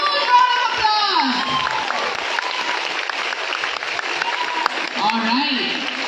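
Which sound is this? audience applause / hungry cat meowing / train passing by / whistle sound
audience applause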